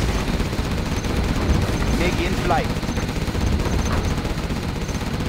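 Rapid, continuous Gatling cannon fire in the game Command & Conquer: Generals, China faction, roars steadily throughout, dense and loud, while a voice speaks briefly over it.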